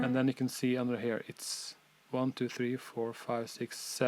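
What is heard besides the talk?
No distinct noise like a dog, phone or traffic.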